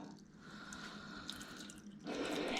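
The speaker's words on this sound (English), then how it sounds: "What I like to do is just slowly let it all drip out before I pull the oil filter out" Motor oil from the drain of a 2015 Mitsubishi Mirage runs into a drain pan during an oil change, a faint, steady liquid trickle that thickens slightly near the end.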